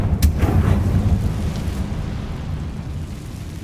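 A Confringo blasting spell explodes in Hogwarts Legacy, a sharp burst followed by a deep, rumbling boom that rolls on and slowly fades, loud and close with no talking.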